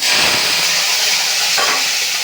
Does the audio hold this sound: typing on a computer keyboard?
no